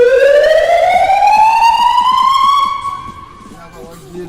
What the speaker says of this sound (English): We have siren.